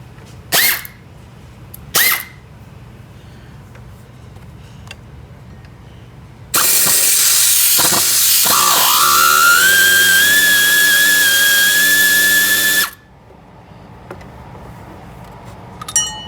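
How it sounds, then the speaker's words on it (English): Air ratchet spinning out bolts on a Jeep Commander during water pump replacement, a loud continuous pneumatic whine lasting about six seconds, preceded by two short sharp clicks of the tool. "now we can bust out our air ratchet"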